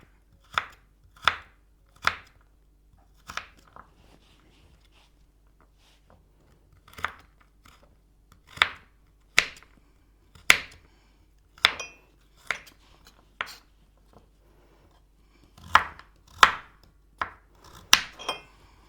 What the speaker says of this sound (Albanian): Po i pres kështu ta shikoni, në copa të vogla, i bi kështu dyshe.